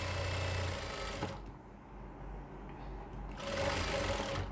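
A sewing machine stitches baby pants, running in a steady motor whir that drops off briefly in the middle and then resumes, close and fairly loud with no talk.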